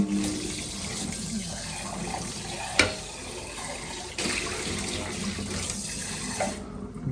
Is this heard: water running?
yes